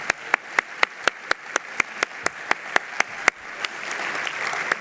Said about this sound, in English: He and Morla hold their hands out toward the audience and applaud.